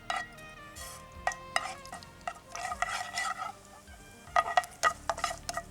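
Mustard seeds are tipped into melted ghee in a pan, giving a soft sizzle with scattered crackling pops and light clatter of a spoon, close and moderately quiet.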